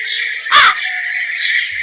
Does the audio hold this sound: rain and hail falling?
no